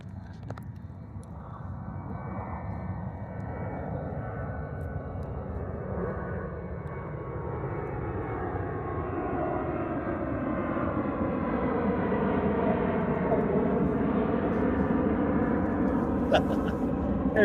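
An airplane passes low over a South Carolina area near an airport runway at night, a broad engine roar swelling steadily louder with a slowly shifting pitch over many seconds, and a voice occasionally speaks beneath it.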